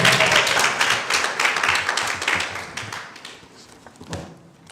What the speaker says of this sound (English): A big clap for my boss.